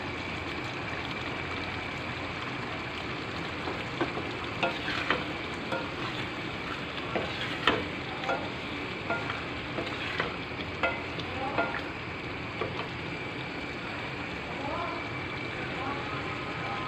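Minced meat qeema with bitter gourd (karela) frying in a pan, a steady sizzle under scattered sharp clinks and scrapes of a spoon stirring, close and fairly loud throughout.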